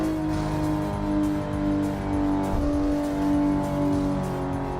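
A racing car engine in the Assetto Corsa driving game, a steady loud droning hum holding a constant pitch with slight swells, no speech over it.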